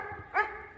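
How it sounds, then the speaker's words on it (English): Shiva the dog gives a single short bark outdoors in the snow, mid-loud and slightly distant, with no voices. "Oh, I see what she's barking at."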